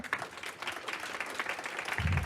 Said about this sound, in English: Okay, clap it up for the sponsors.